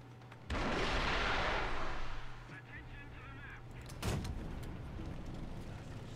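A missile launch in War Thunder gameplay: a loud, broad whooshing roar sets in abruptly and slowly fades over about two seconds, followed by a sharp, nearer blast or shot around the middle, over a low steady engine hum.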